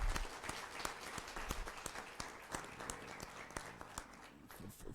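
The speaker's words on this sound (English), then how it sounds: "I would ask for one big applause and thank you for all our speakers." An audience at an international youth conference session gives a round of applause for the speakers, continuous clapping with some sharp individual claps standing out, faint and distant.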